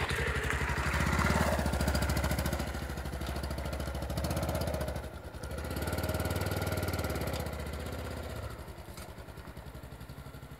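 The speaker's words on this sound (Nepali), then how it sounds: "हामीले यो साँगुरो बाटोबाट हामीले बाइक तार्ने कोसिस गर्नेछौँ" A motorcycle engine idling and revving on a narrow road damaged by a landslide, a steady close throb that rises, dips and picks up again over about ten seconds.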